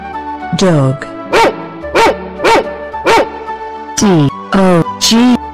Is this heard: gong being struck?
no